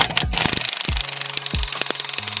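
An air impact gun removes BMW E90 wheel locks through a socket hammered onto them. It fires in short, loud, rattling bursts with brief gaps between them, and each burst ends in a falling whine.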